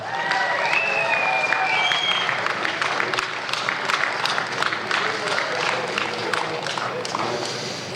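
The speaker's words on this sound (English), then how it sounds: "A huge round of applause." A crowd applauds the Best of Show winner at an outdoor classic car concours, with dense, sustained clapping throughout and a few cheers and voices mixed in.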